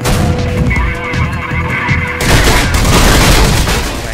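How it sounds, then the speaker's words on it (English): Gunfire in the video game Mirror's Edge: a loud burst of rapid shots and booming impacts, with a dense, heavy volley in the second half. "Oh my god, they're shooting at me."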